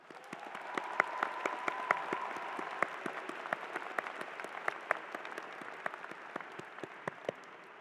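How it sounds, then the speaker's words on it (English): Graduates at a 2024 College of Natural Sciences graduation ceremony applaud their families, a moderate round of scattered clapping that swells quickly and then thins out over several seconds. "Graduates, please give your families a round of applause."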